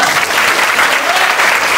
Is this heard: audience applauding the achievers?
yes